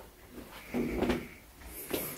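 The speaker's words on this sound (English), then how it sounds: "And we have sliding doors." Traditional Japanese sliding door in an apartment, quiet wooden rattles and a soft sliding thud, a couple of faint knocks close by in a quiet room.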